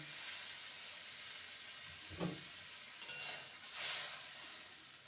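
Water goes into a pan of sizzling spiced potatoes, so a steady frying hiss swells into brief bursts of steam, close and moderately loud, with no one speaking.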